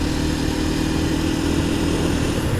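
A Kawasaki KLX230S motorcycle rolls through a quiet neighborhood on a sunny day, its small single-cylinder engine giving a steady, close, low drone with no breaks.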